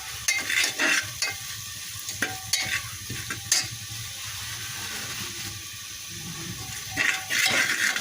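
Spices fry in oil inside a pressure cooker, a continuous sizzle broken by repeated sharp scraping knocks of a spoon stirring against the metal pot, close and fairly loud.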